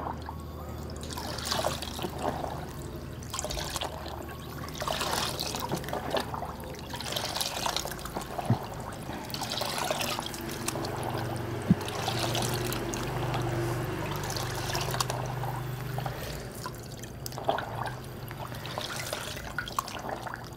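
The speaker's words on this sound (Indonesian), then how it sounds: "pada saat ngebilas seperti ini jangan ditekak-tekuk ya filter udaranya nanti patah" A K&N air filter is swished and rinsed in a bucket of clean water, giving repeated sloshing, trickling and dripping surges, close and fairly quiet, with no talking.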